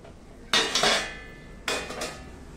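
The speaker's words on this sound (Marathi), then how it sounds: "बघूया, मी झाकण काढते." Metal lid lifted off a pot of steamed vegetables for veg manchow soup, two distinct clattering clanks about a second apart, close and clear.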